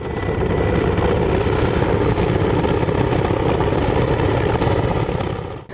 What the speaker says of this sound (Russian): Гул вертолетов